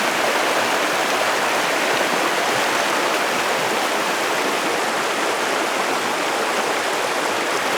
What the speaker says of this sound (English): The creek is cranking.